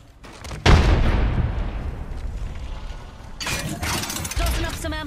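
A frag grenade detonates in Apex Legends: a sudden heavy blast lands near the start, then a long rumbling decay, followed by a rougher burst of crackling, debris-like noise toward the end.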